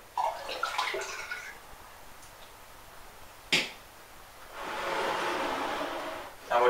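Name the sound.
pouring apple juice into a cider fermenting vessel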